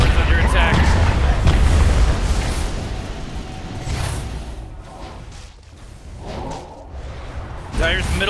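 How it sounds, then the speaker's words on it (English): Attack on the Dire middle tower in Dota 2, heard as a barrage of heavy in-game booms and impact blasts layered over busy battle effects, loud and continuous, with an announcer-style voice over the action. "Dire's middle tower is under attack."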